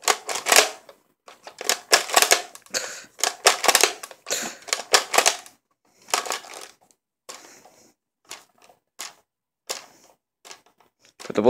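Plastic toy gun being reloaded, sharp clicks and rattles of bullets pushed into the magazine come in quick bursts, close and fairly loud, thinning into scattered taps toward the end with no talk.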